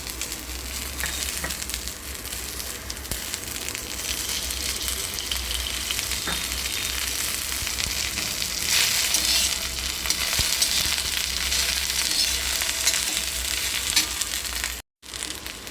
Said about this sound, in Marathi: थोडंसं तेल टाकायचं भाजताना